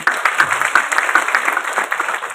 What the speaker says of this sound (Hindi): स्वागत करिए तालियां बजाकर।